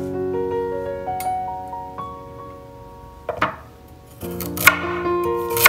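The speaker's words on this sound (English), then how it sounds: "I'm also cutting the ginger and garlic into small pieces." Knife cuts ginger and garlic into small pieces on a board, a few separate chopping taps close by, faster toward the end, heard beneath music.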